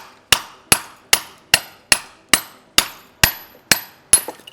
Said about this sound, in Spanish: lo que hacemos es coger el martillo